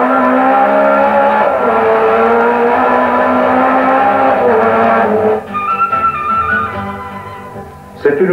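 Rally cars racing on the mountain roads of the Ronde Cévenole in 1974, including an NSU, roar loudly with sustained revving engines for most of the run, then drop to a lower, rougher running note before a sharp burst near the end.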